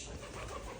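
A pigeon coos softly at its nest inside a room, a short low murmuring call heard close by against quiet indoor background.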